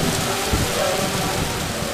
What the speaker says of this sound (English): The music can't compete with the downpour